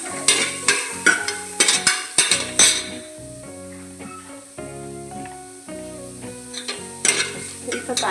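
Chopped onions hit a hot pressure cooker for a mutton curry, crackling and sizzling close up in bursts, with metallic clinks and scrapes from a spoon against the pot.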